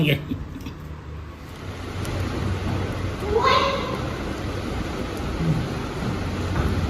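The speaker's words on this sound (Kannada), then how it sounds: "ಸಕ್ಕತ್ತಾಗಿದೆ ಮಳೆ" Heavy rain falls outside a house in Bangalore, making a steady, dense hiss that fills the background. People talk over the continuous downpour.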